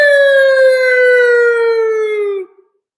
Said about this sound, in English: Those sirens that you hear,